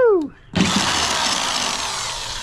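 A brief vocal whoop is followed by a power drill biting into the aluminum transom of a Grizzly all-weld 2024 jon boat, a sudden, steady, loud whirring grind that continues without pause.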